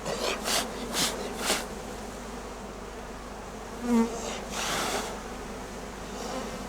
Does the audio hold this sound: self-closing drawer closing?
no